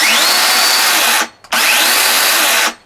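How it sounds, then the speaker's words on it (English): A Makita 18V brushless cordless chainsaw runs loud and close in two high-pitched bursts, each spinning up to a steady whine before cutting off, with a brief pause between them. "here's what the saw sounds like"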